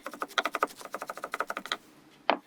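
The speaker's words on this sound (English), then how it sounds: "Chop finely." A knife finely chopping washed parsley on a cutting board while making an Italian pasta meal: a rapid series of about twenty light, crisp taps in an even rhythm, close and moderately quiet, then a pause and one louder knock.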